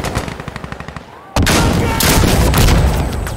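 Rapid rhythmic gunfire gives way to a sudden loud blast that kills an enemy in Insurgency: Sandstorm, followed by a sustained roaring rumble and crackling debris.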